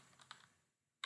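Computer keyboard typing: a few quiet, scattered keystrokes, then a sudden louder burst of keys at the very end, with no talking.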